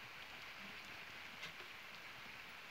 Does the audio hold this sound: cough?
no